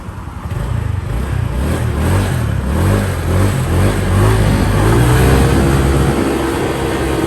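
A Honda Click 125 scooter fitted with an aftermarket CVT pulley and tuned rollers revs steadily on a test ride, its engine note rising and falling, loud and close throughout with no talk.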